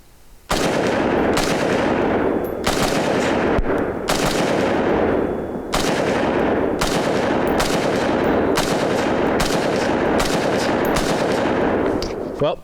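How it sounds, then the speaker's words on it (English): Rifle shots from an ACR rifle fitted with a Geissele trigger, a loud steady string of roughly a dozen evenly spaced close reports with heavy reverberant tails, continuing through the whole stretch with no talking. "we'll just take a few shots with it and just see how it feels"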